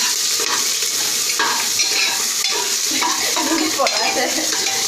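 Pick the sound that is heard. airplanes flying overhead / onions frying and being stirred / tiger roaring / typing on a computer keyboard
onions frying and being stirred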